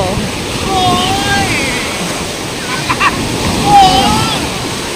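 Sea waves wash onto a beach as people play in the water, a broad steady surf rush with occasional splashes and whoops heard close over the constant roar.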